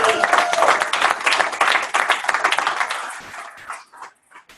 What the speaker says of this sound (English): let's give Tony a huge round of applause